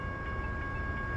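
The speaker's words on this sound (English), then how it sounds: "Look, the rail crossing." A railroad crossing bell rings steadily beside the tracks, a continuous metallic tone over low rumbling traffic noise, fairly near and moderately loud with no talking.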